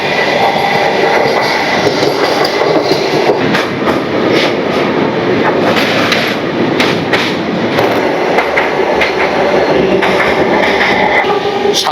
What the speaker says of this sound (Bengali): আসছে সেই ট্রেনটা, যে ট্রেনটা আসছে সেটা হচ্ছে 22896 পুরী হাওড়া বন্দে ভারত।